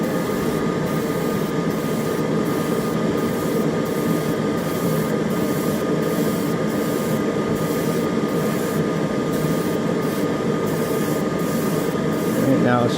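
An airbrush sprays Stynylrez primer in a light misty coat, making a loud, steady hiss that runs without a break, with a faint rhythmic pulsing through it.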